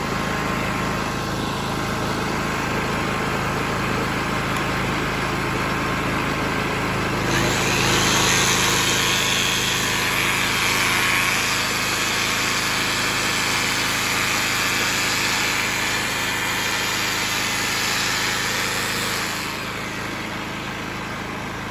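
A GTM3500 petrol generator runs steadily with a constant engine drone that grows louder and brighter midway and then settles, with no voices.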